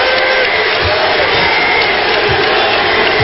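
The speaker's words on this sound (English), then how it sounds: "how about the crowd chanting MVP as Kobe Bryant leaves the ball game" Basketball arena crowd chanting MVP for Kobe Bryant at a Lakers game against the Nets, a dense, steady roar of many voices filling the hall without pause.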